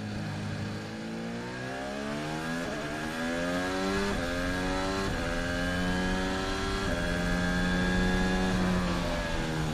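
A Red Bull Formula 1 car at the Abu Dhabi Grand Prix accelerates hard in stop-start driving to keep brakes and tyres warm, a loud, high-pitched engine climbing through quick gear changes, close and continuous.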